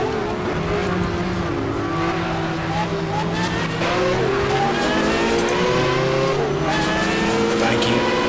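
Race cars howl around the banked Daytona circuit in the GTR2 game, a 1995 Scandia Ferrari, Conrad Porsche and Bugatti among them, with steady loud engine drones shifting pitch and overlapping, while a voice talks over them.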